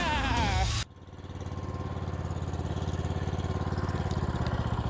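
A homemade rock-shaped car's small engine starts after a brief loud burst and settles into a buzzing, rapidly pulsing putter like a lawnmower, steady and close.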